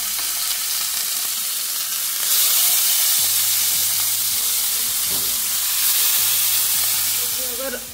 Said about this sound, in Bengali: এই যে পটল মাছ এখানে মাখিয়ে নিয়েছি, নুন হলুদ ভাজবো